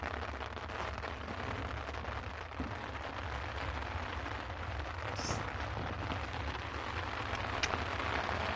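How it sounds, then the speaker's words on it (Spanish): Rain beginning to fall outdoors: a steady, dense hiss of drops hitting surfaces, even and continuous throughout, fairly loud and close, with no talking. "pongo la sombrilla porque empezó a llover"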